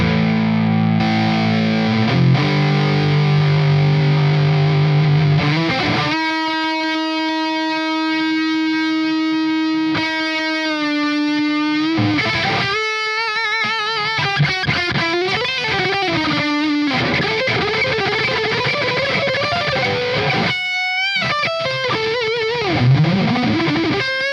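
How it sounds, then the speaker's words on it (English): Overdriven electric guitar through a Marshall ST20 amp with smooth distortion, sustained chords and single notes ringing out loudly, with bends and brief pauses between phrases. "this smooth distortion or overdrive"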